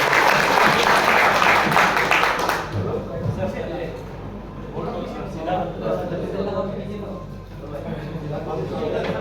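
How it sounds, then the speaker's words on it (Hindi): Loud audience applause at a Kishanganj classroom gathering for two brothers, dense clapping for about two and a half seconds before fading into murmuring voices and room chatter. "एक बार जोरदार तालियां इन दोनों भाइयों के लिए।"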